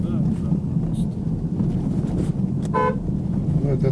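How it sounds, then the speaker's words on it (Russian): Peugeot 508 horn sounding one short toot over steady road and wind noise inside the moving car, with people talking. "Ну, это так, сигнал проверить."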